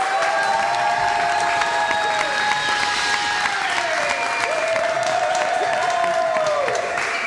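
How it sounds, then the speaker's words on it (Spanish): A live audience at a comedy show in a bar breaks into sustained applause with some cheering, a steady, full wash of clapping throughout, with a few crowd voices mixed in. "tienen que dar un aplauso más fuerte para ver si esto pasa"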